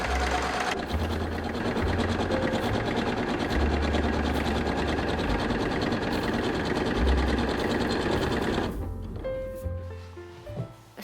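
Domestic sewing machine stitching the shoulder seams of gauze jacket facings, a fast steady whirring run that stops near the end, followed by a few short clicks and quieter handling sounds.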